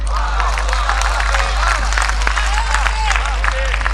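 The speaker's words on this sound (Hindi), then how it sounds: "तो दिनकर की बात पे आपकी तालियां उठे।" Audience applause at a mushaira poetry gathering, a dense steady wash of many hands clapping with some cheering, filling the whole stretch over a low hum.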